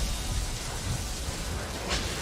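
Rain and thunder from a Genshin Impact lightning attack: steady loud rain-like hiss with low rumbling, and a brief bright crackle near the end, with no talk.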